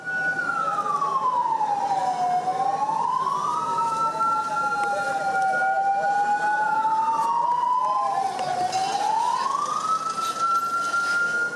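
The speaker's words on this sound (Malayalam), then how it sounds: "4:28 മുതൽ സുരക്ഷിതം എന്ന രണ്ടാമത്തെ സൈറൻ മുഴങ്ങി." An electronic siren wails steadily, rising and falling in long slow sweeps, loud and continuous, during a nationwide civil-defence mock drill in India.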